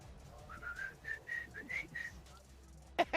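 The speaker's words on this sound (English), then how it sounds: "Can you do the whistle?" A person tries to whistle a short tune, producing a series of thin, breathy whistled notes in quick succession, fairly soft, followed by a sharp noise at the end.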